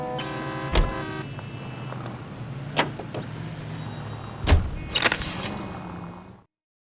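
A car in the L.A. Noire video game: a low engine hum runs throughout under a few sharp thumps and mechanical clicks, then cuts to silence at the end.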